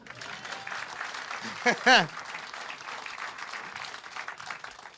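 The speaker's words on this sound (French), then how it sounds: "On applaudit." Applause from a comedy show audience rises as a broad, moderate wash of clapping, with a short burst of voice or cheering breaking through in the middle.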